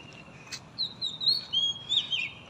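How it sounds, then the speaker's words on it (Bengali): Birds chirp outdoors in Shah Alam, Malaysia, a run of bright, fairly clear tweets and trills in quick bursts over a faint background hush, with no one talking. "দেখুন কত সুন্দর পাখির কিচিরমিচির আওয়াজ,"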